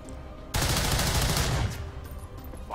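A sustained burst of automatic gunfire from XCOM 2: War of the Chosen rattles loudly for about a second, then cuts off into a quieter ringing tail, with no talking.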